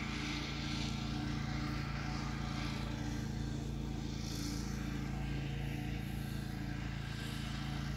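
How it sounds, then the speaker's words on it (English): A hand-pushed lawn mower climbs a slope with a continuous droning engine hum and a buzzing whine. It stays steady and fairly loud throughout and has no clear breaks. "Look at this dude out here mowing by hand."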